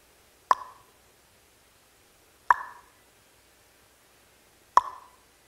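Three single drops of roof leak water plop into a small bucket at about two-second intervals, each a sharp clear drip with a short ringing tail, alone in quiet surroundings.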